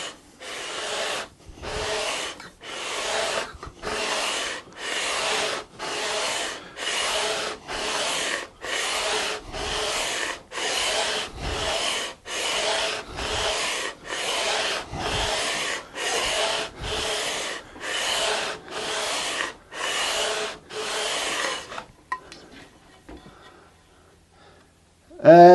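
Hand radius sanding of a flamed ebony guitar fretboard, heard as steady back-and-forth scraping strokes in an even rhythm, about twenty passes close up, followed by a short pause and a faint knock at the end.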